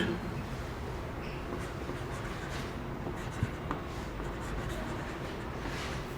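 Chalk or marker scratches across a board in a chemistry classroom, with a steady run of faint writing strokes under a constant noisy background and no clear talk.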